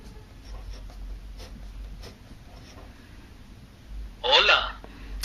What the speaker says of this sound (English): I'm going to write the word hello.